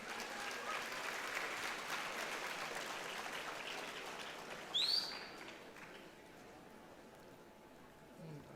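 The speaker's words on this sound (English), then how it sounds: "A round of applause, ladies and gentlemen." Audience applause fills a conference hall for chartered accountancy students in Bengaluru, a dense clapping wash that fades partway through, with a short high squeak or chirp near the middle and quieter room noise after.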